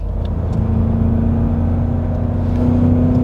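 A tuned BMW M5 F90 of about 800 horsepower accelerates on a test road, its engine a loud, close, steady rumbling drone that climbs in pitch toward the end, with no talking.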